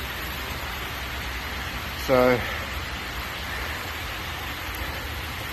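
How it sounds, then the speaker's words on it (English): Heavy rain pours down steadily through a storm, a dense even hiss that fills the whole stretch, with a single short spoken word breaking in briefly near the middle. "And now, as you can see, it's just bucketing down."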